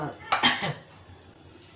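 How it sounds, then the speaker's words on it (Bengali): A metal spatula scrapes and clinks against a pan in a short burst of stirring rice as it dry-fries close by, then things go quiet. "মায়ের জন্য অল্প একটু চাল ভাজা"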